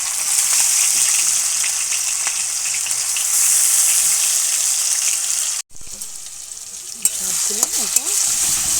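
Onion, garlic and ginger pastes and tomato paste hit hot oil in a pan, giving a loud, close, hissing sizzle that cuts out briefly and then resumes, with a voice speaking near the end.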